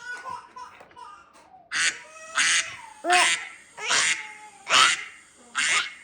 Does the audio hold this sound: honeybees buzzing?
no